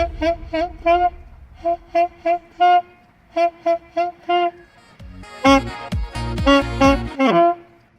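A beginner plays short, separate saxophone notes in spaced bursts, then breaks into a louder, busier run of overlapping notes near the end, with no talk.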